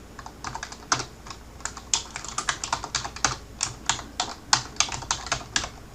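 Rapid typing on a computer keyboard, a steady run of crisp clicking keystrokes with a few short pauses, close and clear with no voices.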